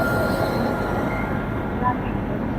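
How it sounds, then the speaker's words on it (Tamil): Busy railway station ambience in Delhi, a steady low rumble of trains and platform noise with a dense background wash throughout, no distinct announcements. "இது வேற ரயில்வே ஸ்டேஷன்."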